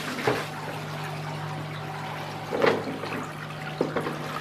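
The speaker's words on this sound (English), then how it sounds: "dip it down in your water, put it in your wringer" A mop dipped into a mop bucket of water and pressed in a downward press wringer: steady watery sloshing with a few sharper splashes and squeaky clunks of the wringer, close and moderately loud, no talk.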